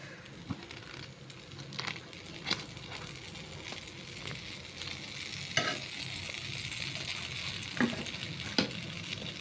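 A little butter melts and sizzles in a pan on a gas stove, ready for toasting pav. A soft, steady frying hiss is broken by several sharp scrapes and clinks of stirring.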